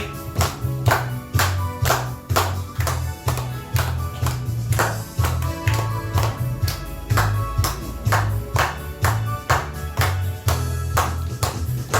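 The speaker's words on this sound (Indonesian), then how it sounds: "Boleh tepuk tangan semuanya" A youth Sunday school group at GKI Efrata Wosi church claps steadily on the beat over an accompanying worship song, the sharp, regular claps close and repeating throughout.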